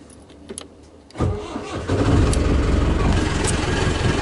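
A sailboat's engine cranks with the key and catches near the one-second mark, then settles into a loud, steady running drone that continues to the end, with no talk.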